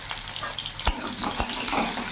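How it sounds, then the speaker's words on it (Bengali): Pointed gourd pieces frying in hot oil with salt and turmeric, giving a steady close sizzle with a couple of brief clinks from the pan. "দিয়ে পটলটা লাল লাল করে ভেজে তুলে নেব।"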